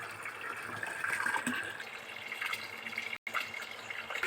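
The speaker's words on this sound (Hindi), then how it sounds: "अब बाल्टी में पानी भर रही हैं" Running tap water pours steadily into a bucket, a continuous splashing hiss with a brief dropout near the end.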